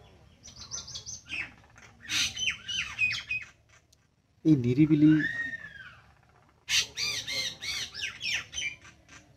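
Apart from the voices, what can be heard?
birds calling outdoors under a tree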